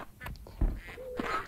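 A bird in the survival video game SurvivalCraft gives a short honking, duck-like squawk that is faint and brief, with a couple of soft thumps and game noise around it.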